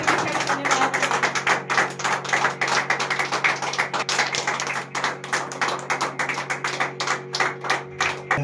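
A congregation at a Sunday prayer service claps hands in a steady, fast rhythm that runs for the whole stretch. A sustained low organ-like hum sits underneath the clapping.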